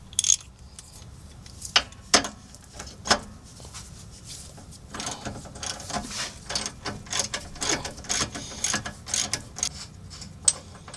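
Ratchet wrench backing off a 19 mm rear shock absorber nut on a 2006 Toyota Sienna: a few separate clicks, then a quicker run of close, moderately quiet ratcheting with no voice.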